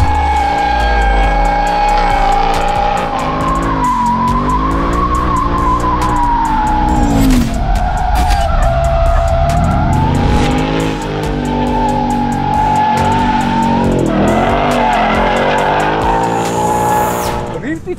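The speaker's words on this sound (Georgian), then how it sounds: "500 ცხენი, 566 ნიუტონი, ატმოსფერული ძრავი, 8 ცილინდრის გუგული, სასწაული, საშინელი ხმა." A Ford Mustang Dark Horse, with a 500-horsepower naturally aspirated V8, is driven hard on a technical track. The engine roars loudly as it revs up and down through gear changes, with bursts of tire squeal near the end.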